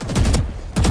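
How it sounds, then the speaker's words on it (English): Rapid bursts of gunfire in a first-person shooter video game: two close, loud strings of shots separated by a short gap. "I was hearing the shots in the back"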